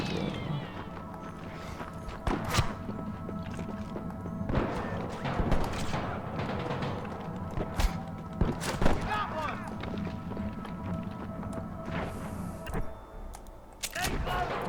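Gunfire aimed at snipers in the Western video game Red Dead Redemption, with sharp shots and thuds scattered over a steady background of game music and ambience, broken up by talking voices.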